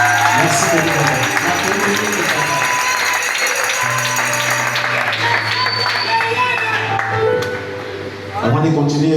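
Wedding guests at a church nuptial blessing applauding, a steady crowd clapping that swells and then briefly fades near the end, with a voice talking over it throughout.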